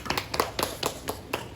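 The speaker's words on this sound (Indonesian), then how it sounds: "Kita tepuk tangan untuk kelompok 2." Students in a classroom micro-teaching session applaud group 2 with a quick run of light, evenly paced claps that sound close and moderately loud, with no voices over them.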